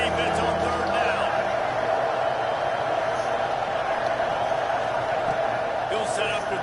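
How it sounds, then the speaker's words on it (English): A dense, steady stadium crowd roar in the College Football 26 video game fills the whole stretch at a constant loud level, with a voice speaking over it. "Decibels rising as the crowd gets behind this defense on third down."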